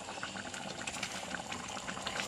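A pot of taro buttermilk curry boils steadily, a dense, even bubbling and simmering hiss running close and constant throughout, with no talk over it.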